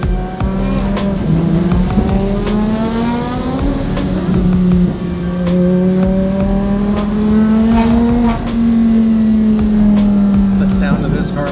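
A turbocharged Lamborghini rally car engine hums loudly and steadily close by, its pitch rising and falling smoothly with throttle and sharp clicks and pops scattered over it, while people talk over the sound.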